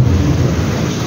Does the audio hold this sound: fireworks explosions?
no